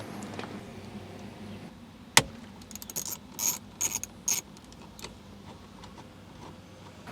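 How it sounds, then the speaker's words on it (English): Torx bolts being loosened with a ratchet on a 2003 Toyota Camry steering wheel, a sharp click followed by several short bursts of ratcheting, close and clear against a quiet background. "these bolts will loosen up, but they will not come out all the way"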